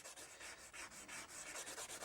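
A duster rubbing pastel into paper during a drawing, making a quick series of soft, scratchy strokes in a steady back-and-forth rhythm, close and fairly quiet.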